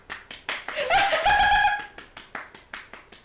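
A handful of sharp handclaps in a quick, steady rhythm, with a short stretch of voiced laughter or cheering in the middle.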